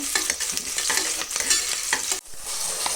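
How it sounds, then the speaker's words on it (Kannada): Onions and curry leaves fry in hot oil in a pan for khara bath, with a loud, continuous crackling sizzle and close, rapid stirring scrapes that dip briefly before resuming. "ಇವಾಗ ಕರ್ಬೇವಿನ ಸೊಪ್ಪು ಹಾಕಿದ್ವಿ, ಈರುಳ್ಳಿ ಹಾಕೊಂತಿದ್ದೀವಿ"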